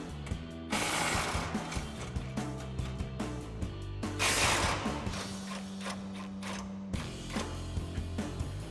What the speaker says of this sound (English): So we've got an 18mm socket and extension on our impact. We'll get those out